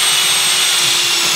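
A cordless drill running on a weak battery gives a loud, continuous whirring whine that holds steady and close for the whole moment, with no voices.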